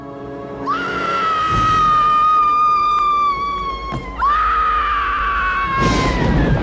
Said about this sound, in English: We hear a very obvious double looping of an identical scream coming from Casey's mother